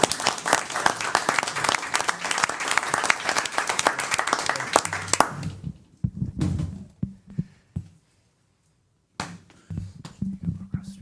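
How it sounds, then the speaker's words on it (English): A city council meeting audience gives a warm round of applause, steady and full for about five seconds before stopping abruptly, followed by a few isolated thumps and scattered claps with brief pauses. "let's give him a nice round of applause"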